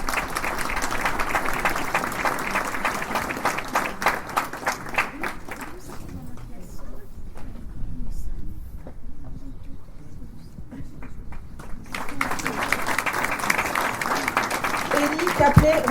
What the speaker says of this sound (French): Compte sur vous pour les applaudir bien fort évidemment